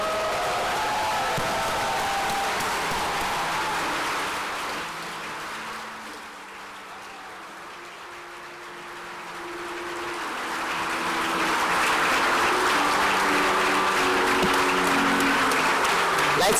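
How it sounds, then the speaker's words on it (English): An audience applauds at a medical school white coat ceremony in a theater, with sustained clapping that dips midway and then swells again. A voice speaks over it throughout. "Let's keep the applause coming."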